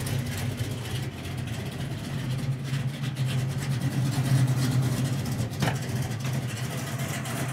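A deep, rumbling big-block V8 in a 1968 Chevrolet Camaro running steadily, swelling in a sustained rev midway, close by with no one speaking.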